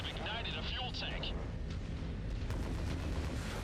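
A fuel tank explodes during a mech battle in MechWarrior 5, a deep rolling boom and rumble mixed with distant gunfire-like blasts, while a voice talks over the steady din.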